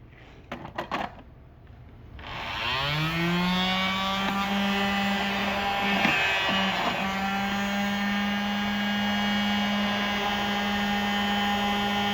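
Homemade mini vacuum with an unsealed, leaky body and a small 380 motor: a few clicks, then the motor whirs up to a steady, close, high-pitched whine that holds to the end.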